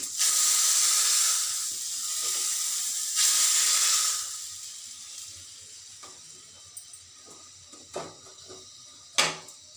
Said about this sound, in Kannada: 1 ಹಸಿಮೆಣಸಿನ್ಕಾಯಿ ಒಗ್ಗರಣೆ ಕೊಡ್ತಾ ಇದ್ದೀನಿ. ಈ ಅಪ್ಪೆ ಸಾರಿಗೆ ಹಾಕ್ತಾ ಇದ್ದೀನಿ.